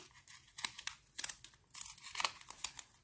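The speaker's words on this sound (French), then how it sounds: "si c'est trop large pour vous, vous avez que besoin de découper un petit peu comme ça" Scissors cut paper in a quick series of close, light snips at an uneven rhythm.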